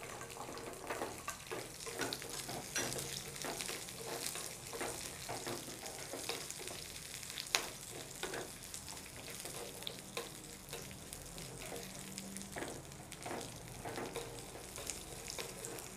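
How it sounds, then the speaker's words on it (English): Curry leaves, green chilies and small onions fry in hot oil, making a steady crackling sizzle with a rapid pattering texture that runs throughout, close and faint, broken by one sharp tap partway through. "Once the oil heats, add curry leaves and green chilies. Add a little small onions."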